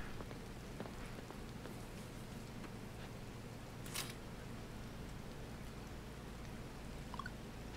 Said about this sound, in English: We got rain.